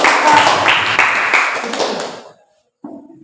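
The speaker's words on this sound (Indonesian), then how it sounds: "tepuk tangan dulu untuk Pak." A classroom group claps for a presenter during a teaching session, a short burst of hand claps that tapers off and stops, followed by a brief quiet sound after a pause.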